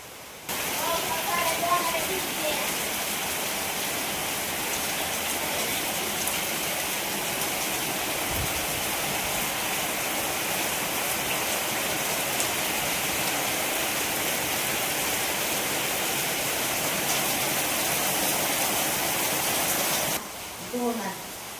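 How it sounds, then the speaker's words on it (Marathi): Steady rain falls outside a home, a dense, even hiss that runs unbroken for about twenty seconds and cuts off abruptly near the end, with a voice faintly present under it. "बाहेर चाललाय पाऊस"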